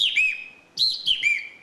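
Hand-made bird call whistle from the Maurílio Coelho bird call factory imitating a great kiskadee (bem-te-vi): two clear, close, bright whistled phrases of quick chirping notes, separated by a short pause, with no talking.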